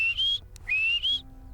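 A shepherd gives a whistle command to a border collie: two loud, close, rising-and-sliding whistle blasts with a brief pause between them, heard alone with no talking.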